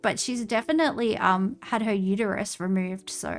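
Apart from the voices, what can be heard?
No distinct noise like a dog, phone or traffic.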